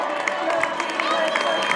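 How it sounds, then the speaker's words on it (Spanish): A crowd claps and cheers in a steady wash of applause at a 2015 popular footrace in Meaño, Galicia, Spain, with a voice calling out over it. "Un aplauso más, un último aplauso para esta gente"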